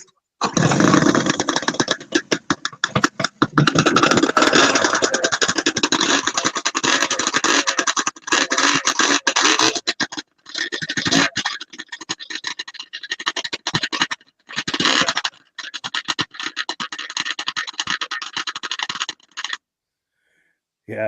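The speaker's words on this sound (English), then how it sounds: "I like how those stinger pipes make that crackling sound." A vintage snowmobile engine with stinger exhaust pipes runs close and loud, its rough crackling and popping exhaust continuous at first, then breaking into short bursts and gaps before cutting off near the end.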